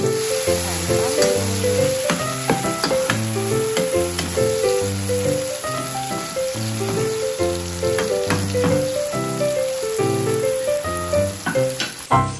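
Sliced onion sizzling in hot oil in a frying pan while cooking rellenong bangus with tomato, a steady bright crackle under a loud, rhythmic repeating music track throughout.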